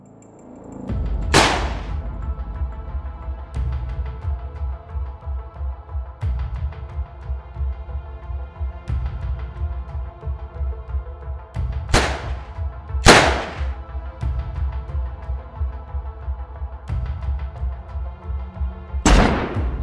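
357 SIG and 357 Magnum gunshots striking level 2 bullet-resistant laminate, four loud, sharp cracks spaced irregularly over a steady low rumble with softer thuds between.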